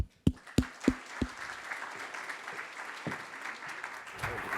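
Applause from a conference audience during a beverage startup pitch competition, starting with a few loud, distinct claps up close, then a dense, fairly quiet patter of clapping spread across the room.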